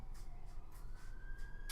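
Ambulance siren in The Amazing Spider-Man 2 video game, a steady wailing tone sounding at moderate distance, alone without talk.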